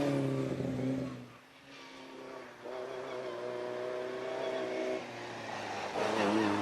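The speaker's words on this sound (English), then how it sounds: "Riley Brooklands, yeah, I see the difference. This is the really low chassis version." A Riley Brooklands low-chassis car's engine drones steadily at Prescott, a sustained tonal hum rising and falling slightly in pitch as the car runs, with a person talking over it.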